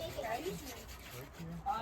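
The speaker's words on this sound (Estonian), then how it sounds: "Nüüd esimene samm, lihvime kõik detailid üle." Wooden birdhouse parts are hand-sanded with a short, scratchy rubbing stroke, close and fairly quiet, repeated back and forth for under two seconds.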